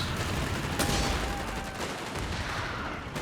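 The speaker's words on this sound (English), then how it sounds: "That's a cheeky grenade." Gunfire and explosions from a Company of Heroes 3 battle, a dense continuous stream of rattling shots with a sharp grenade-like burst near the start and another near the end, loud throughout.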